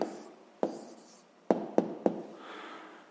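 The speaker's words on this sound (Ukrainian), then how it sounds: "Записуємо відповідь." Pen writing out a math answer on paper, close and quiet scratching strokes punctuated by four sharp taps against the page.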